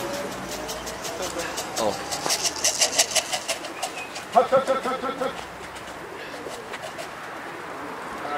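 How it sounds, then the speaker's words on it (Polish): Pigeons coo at a winter racing-pigeon club gathering, soft repeated calls close by, while people talk over them throughout. "Piękne są te gołębie, prawda?"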